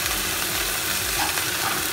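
Sirloin steak frying in a pan with garlic gives a steady, close sizzle with soft stirring sounds, continuous and alone with no talking.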